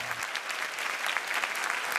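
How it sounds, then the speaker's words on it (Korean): A concert hall audience applauds and cheers a white robot conductor bowing toward the seats before an orchestra, a fairly faint, distant wash of steady clapping with scattered sharper claps throughout. "객석을 향해 허리 숙여 인사하는 로봇, 환호성이 쏟아집니다."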